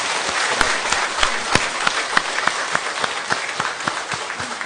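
A church congregation breaks into loud, sustained applause at a sanctuary dedication service: dense clapping fills the room evenly, with a few sharper claps standing out, and no voices heard.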